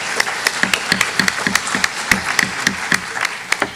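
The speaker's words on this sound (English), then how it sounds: "please reserve your applause for the end of the meeting" A small group claps at a special town meeting in Dover, producing crisp, separate hand claps in a brisk, somewhat uneven rhythm that stays close and clear throughout.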